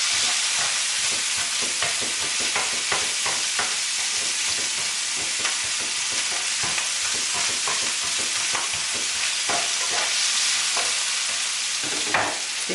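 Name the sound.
stirring sausage frying in a pan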